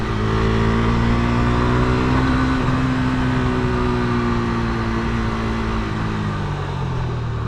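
Yamaha XS650 motorcycle riding along a quiet road, its engine droning loud and steady throughout with shifting harmonic tones, no talking over it.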